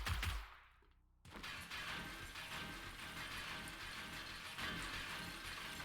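Rapid gunfire from the game 7 Days to Die, aimed at spike traps: a sudden loud burst, a short lull, then a dense, steady stream of shots continuing to the end with no talking.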